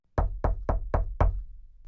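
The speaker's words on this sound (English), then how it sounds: "A knock on the classroom door was the only clue they needed." Five sharp, evenly spaced knocks land close and loud on a classroom door, each with a short resonant decay, followed by quiet.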